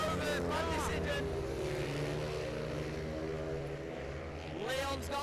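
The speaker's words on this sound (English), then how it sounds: "he'll be listening to that engine now for all 4 laps" A racing car engine drones loudly and continuously during race laps at a Teesside championship circuit event, a steady roar with passing swells, under excited commentary voices.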